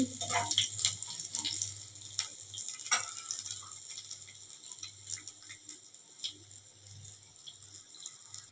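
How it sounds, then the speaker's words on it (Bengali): Neem leaves fry in a pan while being stirred, giving a soft, steady sizzle with light crackling and occasional scraping ticks, quiet and close. "নিম পাতাটা দিয়ে দিয়েছি, একটু ভালো করে নাড়তে হবে।"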